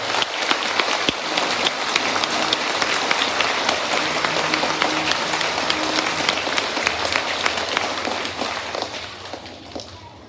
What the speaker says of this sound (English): Let's do one more round of applause for our veterans of honor.